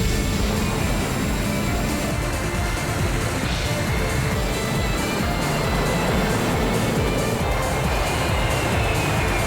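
A fighter jet takes off from runway 34R with a steady, loud, continuous engine roar that holds throughout without pause.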